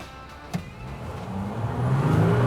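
A VW Amarok V6 TDI pickup accelerating hard with overboost, the diesel engine note rising and growing louder over a couple of seconds after a brief click.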